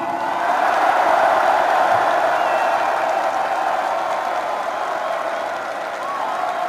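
A large crowd at a political rally cheering and applauding, a steady continuous roar of voices and clapping that holds at a fairly even level throughout.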